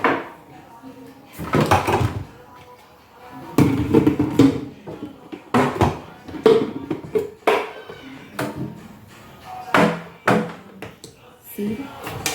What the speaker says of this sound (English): So I will start chopping my pineapple because it's already washed.